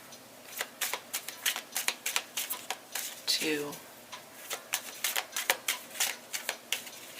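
Tarot cards being shuffled by hand, giving a run of quick, crisp papery clicks and riffles at close range, with a brief spoken word partway through.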